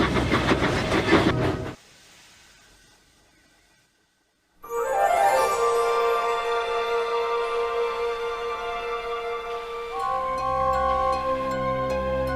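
Steam engine Edward chugging along the rails in pursuit, a sustained rhythmic run with bright whistle-like harmonics after a brief quiet gap, loud and close with no talk.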